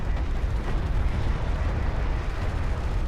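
Gunfire barrage on a railgun force in the Homeworld: Deserts of Kharak video game, heard as a dense, continuous roar of rumbling blasts and explosions with no pauses or speech.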